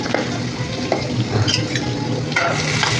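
Asafoetida sizzling in hot oil in a pan while cooking cabbage paratha filling, a loud continuous hiss and crackle with a spoon scraping and stirring through it.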